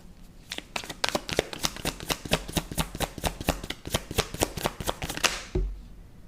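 Tarot cards riffle and snap in a fast, steady run of crisp close-up flicks lasting several seconds, ending with a single soft thud, with no talking.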